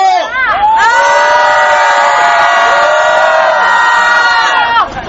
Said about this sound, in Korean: 함성 한번 질러주십시오!